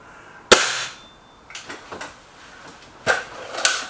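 An air rifle fired with Norma pellets, one sharp close crack followed by a short decaying ring, then a few softer mechanical clicks and a second sharp snap near the end.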